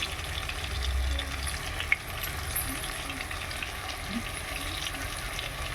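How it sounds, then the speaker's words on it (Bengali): Tandoori-marinated chicken frying in a pan gives a steady, even sizzling hiss throughout, close and continuous with no clear talking. "তো এইভাবে একটু ভালোভাবে ভেজে নেবেন।"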